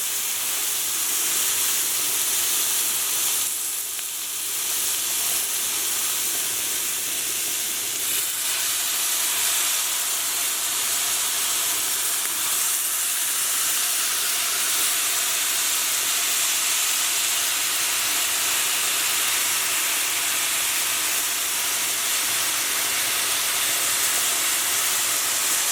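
Soy sauce hits a hot stir-fry pan holding steak and Brussels sprouts, giving a loud, steady sizzle and steamy hiss that fills the whole stretch without letup, with no talking over it.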